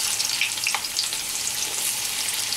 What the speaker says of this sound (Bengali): এবার আমি পটলগুলো ভেজে নেব। পটল দিয়ে দেব।